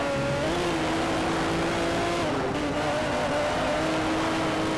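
Race car engine in Need for Speed Shift 2: Unleashed during an overtake, a loud sustained high-revving drone with shifting pitch and a brief gear change midway, continuous and close throughout.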